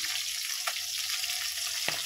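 Fish fries in a pan with a steady, dense sizzling hiss up close, with a couple of brief clicks from the pan or utensil and no speech.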